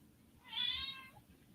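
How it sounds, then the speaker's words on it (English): A single clear cat meow, a house cat greeted in the morning, rising and falling over about half a second against a quiet room background. "What is with the meows?"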